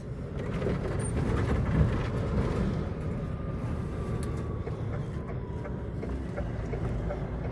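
An empty long-haul truck rolls along, heard from inside the cab as a steady, fairly quiet broadband road rumble and rattle with no talking.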